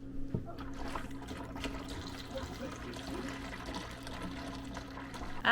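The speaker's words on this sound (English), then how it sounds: "So that was me pouring a jug of milk into an old jug that we just emptied" Milk poured from a full jug into an emptied old jug indoors, a steady close liquid trickle and glug running continuously at moderate level with no talk over it.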